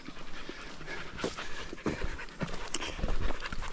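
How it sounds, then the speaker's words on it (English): A hiking dog on the Appalachian Trail pants heavily and rapidly, close by, in a steady run of quick breaths with no voices. "So Riley's breathing hard, but he's hiking very well"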